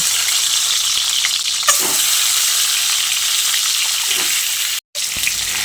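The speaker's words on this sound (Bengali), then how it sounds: "এবার আমি ম্যারিনেট করে রাখা ডিমগুলোকে দিয়ে দিচ্ছি।" Marinated eggs dropped into hot mustard oil in a wok set off a loud, continuous sizzle that fills the whole stretch, broken only by a brief cut near the end.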